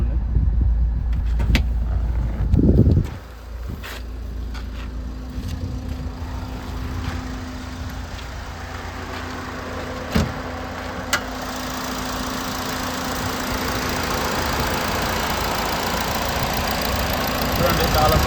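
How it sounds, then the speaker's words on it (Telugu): A 2012 Toyota Etios engine idles quietly and steadily up close after a brief louder knock, with a faint low hum and occasional small clicks throughout. "చాలా సైలెంట్గా ఉంది ఇంజన్ రీడింగ్ అయితే."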